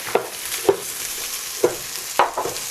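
A vegetable rice soup simmers in a pot while a spoon stirs it, giving about four distinct scraping strokes over a soft, steady bubbling.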